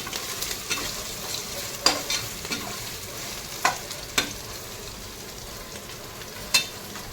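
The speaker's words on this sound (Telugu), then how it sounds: "ఇంకొంచెం సేపు ఫ్రై అవ్వాలి." Ingredients for coconut rice fry in a pan, a steady soft sizzle broken by scattered sharp scrapes and clinks of a spoon stirring, with no voices.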